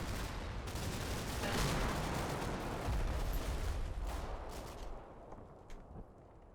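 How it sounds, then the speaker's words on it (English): Machine gun fire from the war game Combat Mission: Battle for Normandy rattles in sustained bursts at middle distance, with overlapping distant shots, then thins out and fades toward the end. "That's some nice machine gun fire there."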